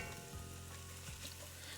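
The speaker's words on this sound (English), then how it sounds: "Now that we've evaporated the liquid, now it's sautéing. Now you can hear the sizzle." Vegetables for seco de pollo sauté in a pan after the liquid has cooked off, giving a continuous close sizzle with a faint stir partway through and no talking.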